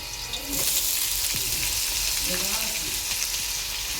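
Chopped mixed vegetables hit a hot pan for a vegetarian mixed sabji, and a loud sizzle swells up within the first half second, then holds as a dense, close frying hiss.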